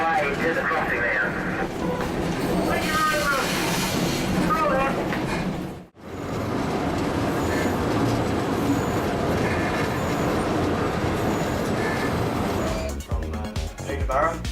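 A Pichi Richi Railway train runs along the line toward the crossing, giving a steady, loud rolling rumble with rattling carriages for the whole stretch, briefly cut near the middle, and people talking beneath it.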